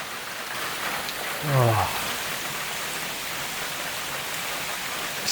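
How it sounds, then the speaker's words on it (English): Heavy rain pours steadily around a canopy shelter on a mountain trail in Malaysia, a dense continuous hiss close by, with a brief voiced exclamation near the middle. "I've just taken shelter under this canopy. But the rain is still getting me."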